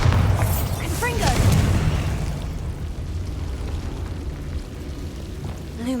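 Bombarda and Confringo spells exploding in the Hogwarts Legacy video game: a loud booming burst with rumbling low end at the start, decaying into a sustained roar, then quieter debris and another faint blast near the end.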